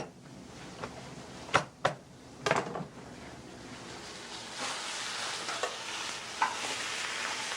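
Halved lobster claws, still alive when split, set meat side down into a hot pan with butter, sizzling steadily and building, with a few sharp clinks of utensils against the pan early on.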